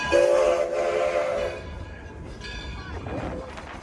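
A 4-4-0 steam locomotive's whistle sounds loudly at the start, then the rumble and clatter of the passing train carries on, with a second whistle later.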